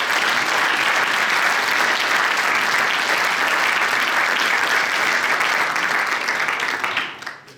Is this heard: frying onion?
no